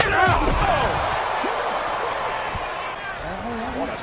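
A steel chair slams into a wrestler in a wrestling video game, a sharp metallic impact near the start followed by crowd noise and lingering arena ambience.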